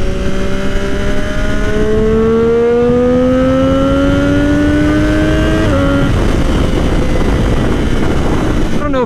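Triumph Daytona 675R sport motorcycle engine and exhaust heard while riding, a loud steady whine rising in pitch as it accelerates, a brief shift near six seconds, then a rougher drone with wind rush.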